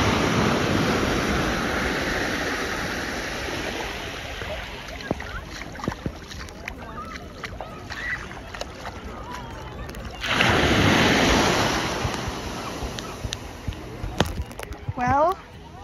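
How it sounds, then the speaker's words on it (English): Cold ocean waves surging around someone wading knee-deep near the rocky shore between Port St Mary and Port Erin, continuous rushing and splashing water with wind, a louder wave arriving late; a person talks over it. "There's waves coming, which means it's splashing me quite higher."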